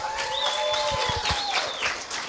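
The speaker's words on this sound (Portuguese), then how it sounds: "Palmas para os nossos homens." Scattered clapping runs steadily through a short stretch, with an electronic whistle-like tone drifting across it, moderately quiet and close.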